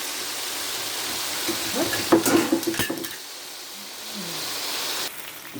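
Oil crackles and sizzles as sun-dried beef fries, with a burst of scraping and clattering against the pan in the middle, then a quieter steady sizzle.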